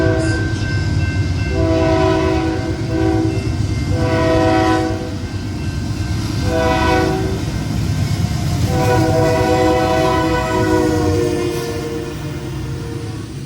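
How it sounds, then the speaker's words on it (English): A Union Pacific auto-rack freight train passes loudly up close at Glendale station, its horn blasting in four long, separated blows over the continuous rumble and clatter of rolling cars. "this train was unexpected as we had no idea that this train would be coming to Glendale."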